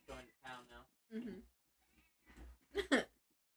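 A house cat meows in a string of short, quiet calls with brief gaps between them, the last pair louder and drawn out.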